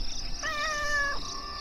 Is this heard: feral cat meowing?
yes